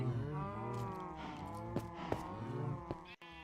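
Cows moo on a mass breeding cow farm in a video game, several drawn-out overlapping lows, fairly quiet, with a few soft clicks between them.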